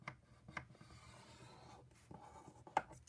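Paper is scored with a tool for a note pad cover, soft scratchy strokes and light taps, faint and close in a quiet room.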